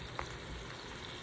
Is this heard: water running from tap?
no